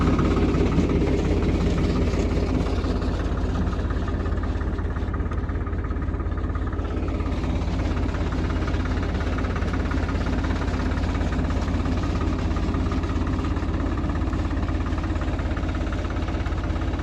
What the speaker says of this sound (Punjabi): ਚੱਲਦਾ 843 ਟਰੈਕਟਰ ਦਾ ਪੂਰਾ ਨਜ਼ਾਰਾ ਏ